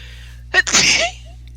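A single sharp sneeze, close and loud, with a quick intake of breath just before it, then quiet.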